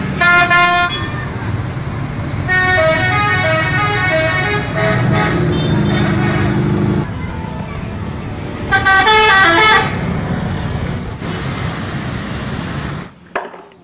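A Harapan Indah bus drives through traffic in a video game with repeated honking from vehicle horns, several separate multi-toned horn blasts over a steady engine and road rumble, with a voice speaking partway through.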